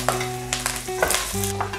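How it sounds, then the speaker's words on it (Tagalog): Pork frying in its own rendered fat with garlic and ginger for Bicol Express, short crackling sizzle bursts and stirring over a steady tonal hum, close by, with no speech. "Hintayin po lang natin hanggang matuyo at lumabas ng sariling mantika niya."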